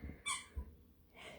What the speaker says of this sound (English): That's her now squeaking her ball.